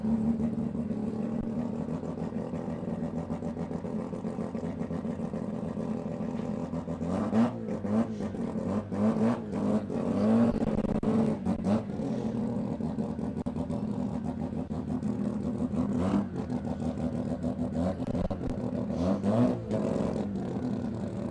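Turbocharged billet 13B rotary engine in a drag racing car at Palmyra Dragway, a rough, buzzy idle and revving with sharp throttle blips, heard from a distance amid track ambience.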